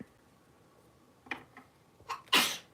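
A few short sharp breaths lead into one loud, close sneeze near the end, with a quiet background before it.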